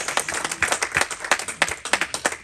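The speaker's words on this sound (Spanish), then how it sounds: "Dale un fuerte aplauso al Señor en esta tarde." A church congregation at an evening Spanish-language service claps in praise, with a brisk run of sharp, fairly even claps that are close and steady, and no talking over them.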